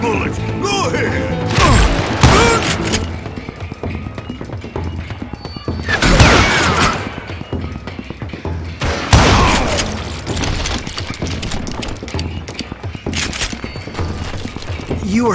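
Gunshots in the Western shooter Call of Juarez Gunslinger ring out as loud, sharp booms at irregular intervals among clattering mechanical noises, with a low voice heard faintly in between.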